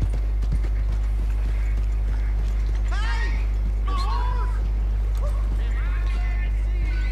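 A horse's hooves clip-clop at a steady walking rhythm in Red Dead Redemption 2, close and continuous, with occasional whinnies and snorts and a constant low rumble underneath.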